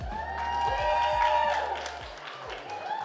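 Applause and cheering from a live audience as Gabby Reece is welcomed onto the stage at a talk event, a steady, dense wash of clapping and crowd noise that fades slightly near the end.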